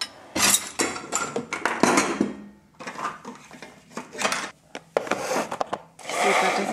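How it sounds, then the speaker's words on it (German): Dishes come out of a dishwasher in a home kitchen, with plates, glasses and cutlery clinking and clattering in quick, irregular bursts close by. "Geschirr kann ich einmal ausräumen."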